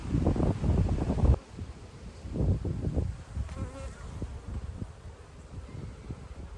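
Honey bees buzz steadily around an open hive during a beekeeping inspection, with frames being handled, a continuous close insect drone with soft handling noises over the first second.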